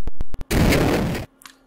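A synthetic UFO effect generated in BFXR: a few sharp electronic blips, then a loud broad whooshing burst that cuts off abruptly, followed by faint chirps.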